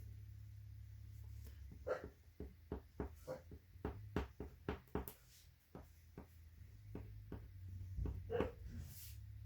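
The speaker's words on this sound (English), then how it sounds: "you can hear my puppy barking" A puppy barks in a quick series of sharp yaps, fairly near, over a low steady hum, with a few more yips near the end.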